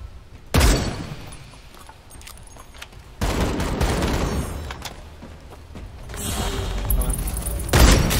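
Gunfire in a vampire battle royale video game with sniper and AK rifles, several loud bursts and booming shots separated by quieter stretches, with a player speaking briefly.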